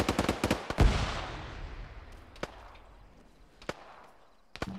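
A burst of rapid gunfire crackles close by at first, then scattered single shots ring out at intervals over a fading rumble during a tense firefight, with no voices.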